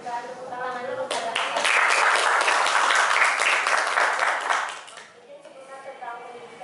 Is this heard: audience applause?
yes